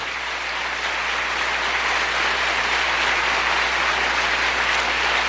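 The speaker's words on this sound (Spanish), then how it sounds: "Dele un aplauso al Señor" A church congregation gives loud, dense applause to the Lord, a continuous roar of clapping that holds steady throughout with no voices standing out.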